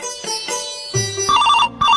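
A mobile phone ringtone plays loud and close, a short electronic melody of bright repeating tones with a brief gap near the end, no voices.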